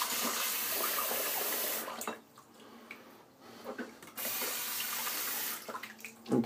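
Water runs from a tap in bursts, a steady rush that stops briefly midway and resumes, with clinks and handling noises in a quiet room and no talking.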